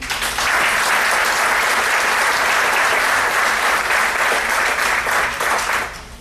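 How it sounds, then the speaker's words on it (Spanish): An audience at a formal speaking event on Venezuelan sovereignty applauds a speaker, a dense, sustained round of clapping filling the room for several seconds before tapering off. "Un aplauso."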